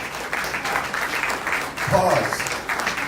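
Town hall audience in Creston, Iowa claps, dense steady applause with a voice rising briefly over it partway through.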